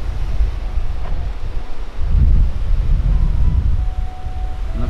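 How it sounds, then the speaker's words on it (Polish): Surf at Playa de Las Teresitas beach in Tenerife rolls in as low, surging swells beneath heavy wind buffeting the microphone. "O, tutaj są troszkę większe fale."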